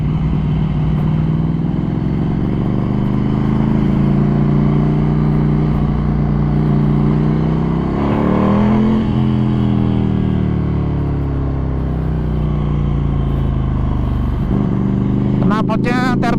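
A 2020 Ducati Scrambler 800 Icon fitted with a Termignoni carbon exhaust and a Ducati up-map runs loud and close, its deep throb holding steady before a rising rev swells midway, then settling back down.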